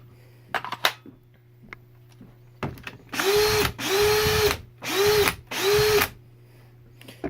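A power drill freshly fitted with new carbon brushes whirs loudly in four short bursts, each spin-up and wind-down clearly heard, after a few light clicks and handling knocks.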